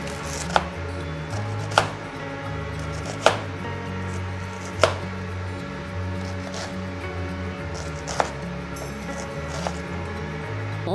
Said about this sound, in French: donc on va réaliser des carrés, des petits cubes